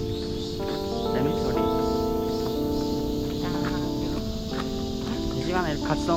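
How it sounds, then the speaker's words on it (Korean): Cicadas drone continuously in a high, shrill chorus, with pulsing bursts rising and falling over a busy background of other steady tones. "매미 소리"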